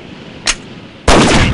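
Two gunshots in a video game: a short, sharp crack, then a much louder, fuller blast that rings out briefly before the clip ends, with no talking.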